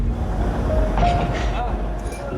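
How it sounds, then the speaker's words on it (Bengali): Darjeeling Himalayan Railway steam toy train, heard close as a continuous low mechanical rumble with faint metallic clinks over it. "স্টিম ইঞ্জিন এর সেই আওয়াজ"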